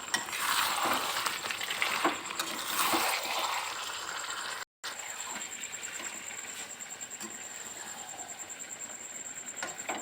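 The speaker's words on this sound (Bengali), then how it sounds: "দেখুন এইভাবে কষিয়ে নিচ্ছি" Chicken pieces sautéing in oil in a pan while being cooked down for a Bengali yogurt fried chicken dish, a steady soft sizzle with occasional scraping stir strokes, one brief dropout partway through.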